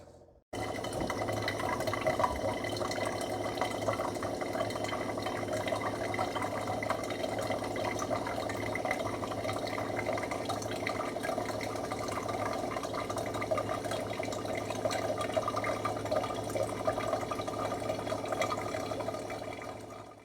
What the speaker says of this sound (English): the water will start getting higher and higher because the filters are full and it's starting to work through the system